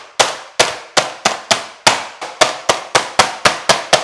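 Chicken breasts being pounded flat for cooking, a sharp sequence of about thirteen loud, evenly spaced thuds close by, each blow striking hard and decaying quickly, with no talk.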